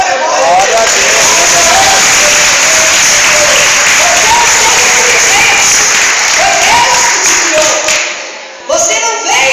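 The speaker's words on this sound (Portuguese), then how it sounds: "Aplauda o Senhor." A church congregation applauds in loud, sustained clapping that fills the room, with voices and shouts of praise mixed in throughout.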